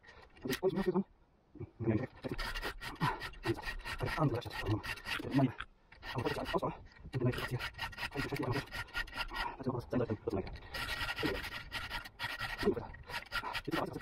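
A file rasping along the chain of a STIHL MS500i chainsaw fitted with a 90 cm bar: repeated short scraping strokes in a steady back-and-forth rhythm, close and fairly loud, with brief pauses between groups of strokes.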